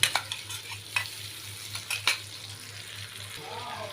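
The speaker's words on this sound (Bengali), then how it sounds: "এইবারে এটা আমি খুব ভালো করে তেল ছাড়া পর্যন্ত কষিয়ে নেব" Ginger, garlic, tomato and nut paste fries in hot oil for an egg and potato curry, giving a soft low sizzle with a few sharp scraping stirs of the spoon scattered through, close by and fairly quiet.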